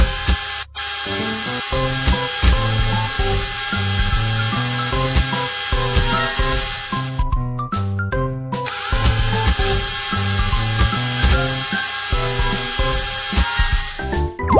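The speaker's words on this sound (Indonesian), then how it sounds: "Bor lubang hitam terlebih dulu." Cartoon dental drill boring holes in a decayed tooth, heard as buzzy tool-like whirring over a busy, loud musical backing that runs nearly throughout, with a brief break in the middle.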